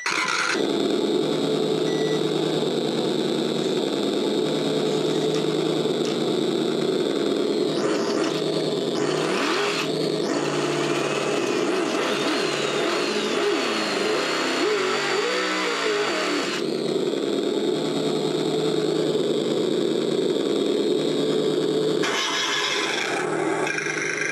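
A synthetic engine sound from an RC car sound kit plays steadily from a small speaker, a constant mid-pitched, low-RPM crawler drone with a few brief revving swells and whines partway through.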